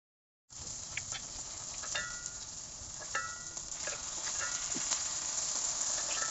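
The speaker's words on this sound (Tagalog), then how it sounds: "Papainit lang tayo ng ating kawali. At iprito na natin siya." Chili dynamite, wrapped chili peppers, fries in a hot pan: a steady bright sizzle starts abruptly and keeps going, with scattered crackles and pops, moderately loud and close, with no voices.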